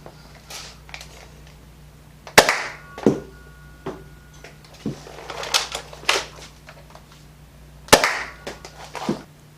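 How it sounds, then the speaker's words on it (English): A Containment Crew Kronos foam blaster fitted with a stiffer Pro Fit upgrade spring fires two loud, sharp snapping shots several seconds apart, with smaller clicks and rattles from priming in between. "Definitely much harder to prime this blaster with the Pro Fit spring in."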